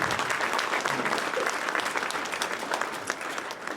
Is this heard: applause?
yes